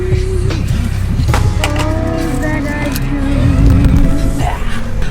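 A car drives along and pulls up outside a shop, with a steady engine and road rumble throughout that swells slightly near the end, and voices faintly present underneath.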